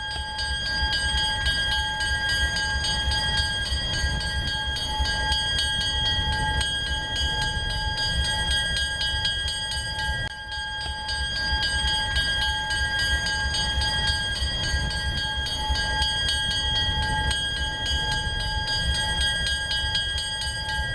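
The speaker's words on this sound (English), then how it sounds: "As our train leaves the station" A museum train pulls out of the station on a railway museum line, with a steady close rumble of the carriage and wheels rolling on the track. The sound is continuous and fairly loud, and no one speaks.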